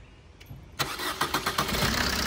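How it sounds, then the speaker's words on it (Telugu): A used 2016 Maruti Brezza ZDI diesel car starts on the first crank with a sharp catch, then settles into a steady, clattering diesel idle, close and fairly loud. "సింగిల్ సెల్ఫ్లో అయితే వెహికల్ కూడా స్టార్ట్ అయింది"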